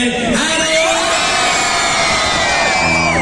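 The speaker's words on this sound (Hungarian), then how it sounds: "3-ra hatalmas sikításra kérem, tetszett a műsor" A festival crowd at a May Day concert in Csenger screams and cheers on a count of three, a loud sustained roar with whoops and shrill yells filling the whole moment.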